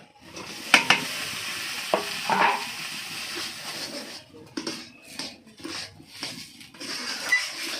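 Washed green peas frying in a pan, with irregular stirring scrapes and clatters over a soft sizzle, loud close bursts separated by quieter gaps.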